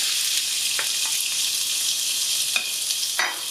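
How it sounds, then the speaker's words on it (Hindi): Chicken pieces frying in a pan over medium heat for restaurant-style chicken fried rice, a steady dense sizzle with a few sharp stirring scrapes and clicks near the end, no voices. "अब इसके अंदर हम चिकन डाल देंगे सारा।"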